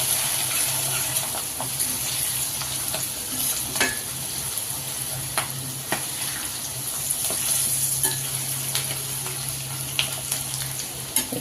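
Asafoetida and turmeric sizzle in hot oil for a tempering, a steady close crackle with faint stirring clicks throughout and no talk.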